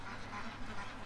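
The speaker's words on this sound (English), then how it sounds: "So the ducks are coming here." Several ducks quack in a loose, overlapping chorus at moderate distance, a steady rasping flock sound with no talk over it.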